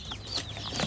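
Meat chickens, a batch of about fifty birds, cluck and chirp close by in a steady overlapping chatter with no one talking.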